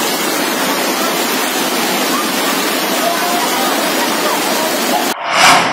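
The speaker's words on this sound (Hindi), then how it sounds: "पहले आप ये पानी के सैलाब का मंजर देखिए।" Flood water rushes through the streets of Mathura in a steady, loud roar that fills the whole stretch before cutting off abruptly near the end.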